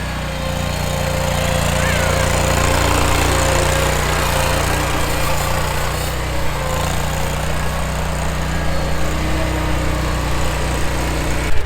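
Ventrac compact tractor mower engine running steadily at close range, a loud constant droning hum with a high whine, alone without talk.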